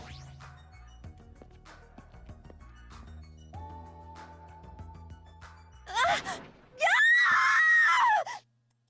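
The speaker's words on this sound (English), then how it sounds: "A scream? That voice just now, wasn't that Ibuki?" A loud, sustained shrill scream erupts in Danganronpa 2 after a quiet stretch of sparse tinkling game tones, with a short burst first and then a long piercing cry that cuts off abruptly.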